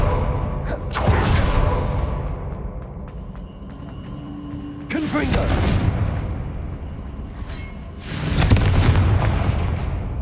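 Confringo fire spell blasts in Hogwarts Legacy, three separate explosive booms spaced several seconds apart, each with a rumbling tail, amid game sounds and vocal effort noises.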